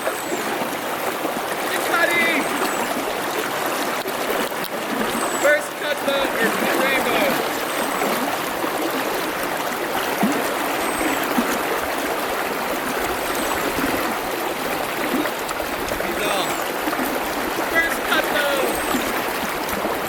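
Steady rushing flow of Rock Creek in Montana, a fast mountain trout stream, fills the scene with constant broadband water noise, close and fairly loud, with faint bird chirps scattered over it.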